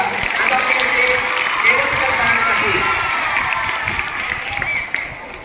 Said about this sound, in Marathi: एका जोरदार टाळ्या होत्या